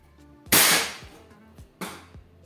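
A single-shot gun fires at a brick: two sharp, loud cracks about 1.3 seconds apart, each with a bright burst that fades quickly, with a few faint clicks between them.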